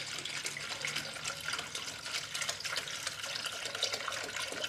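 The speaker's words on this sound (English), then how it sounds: "I'll pour straight antifreeze, and then I'll mix it with water after I get some of it out of the jug." Straight antifreeze coolant glugs and pours steadily from a gallon jug during crank pulley work on a 1999 Lexus SC300 with a 2JZ-GE engine, a continuous close liquid splash with no talking.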